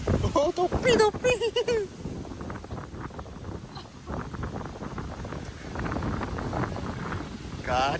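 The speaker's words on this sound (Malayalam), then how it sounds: "കാറ്റ് തൊപ്പിയൊക്കെ പറന്നു പോകുന്നു, മുടിയൊക്കെ മറക്കുന്നു." Gusty wind buffets the microphone outdoors on a trek up to Amazon View Point in Edavanna, Malappuram, Kerala, a loud rushing roar under people talking throughout.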